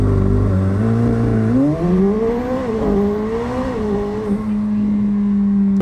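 A high-horsepower car launches hard with launch control, its engine note held at a steady drone, then climbing in a rising, wavering whine as boost builds and the tires spin, loud and close throughout.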